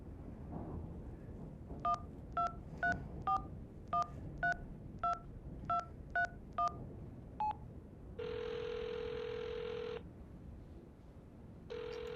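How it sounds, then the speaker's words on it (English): A phone in the video game HitchHiker dials a number: a quick series of about eleven evenly spaced touch-tone beeps, then a longer steady tone and the start of another, all fairly quiet and with no talking. "Oh, call the number."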